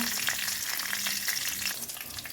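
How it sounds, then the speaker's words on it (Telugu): Urad dal, chana dal and peanuts fry in hot oil with cumin for a tiffin made from leftover upma, a dense, close, continuous sizzle with light stirring and no talking. "మినపప్పు, కొద్దిగా శనగపప్పు, పల్లీలు కొంచెం గోలిన తర్వాత"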